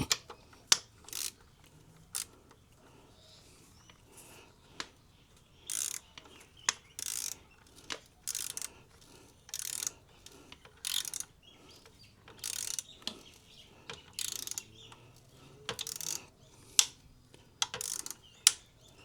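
A torque wrench ratchets while tightening a side stand bolt on a BMW 1300GS motorcycle, giving repeated short bursts of sharp metallic clicking in an irregular rhythm, close and clear with quiet pauses between strokes.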